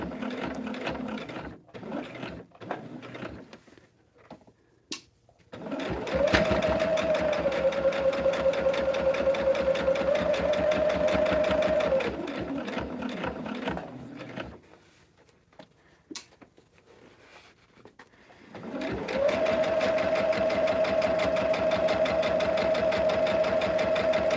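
A sewing machine stitches a Storm at Sea throw quilt in two long, steady runs with a rising whine, separated by a quieter pause of clicks and handling noise. No one speaks.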